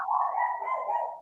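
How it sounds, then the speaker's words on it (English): A dog gives a single drawn-out bark or yelp, close and fairly loud, held steady for about a second with no talking over it. "That's my dog."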